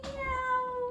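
Cartoon-like cat meows inside a Hebrew children's song, a bright sustained mew with clear rising harmonics lasting about a second, loud and close with no talking.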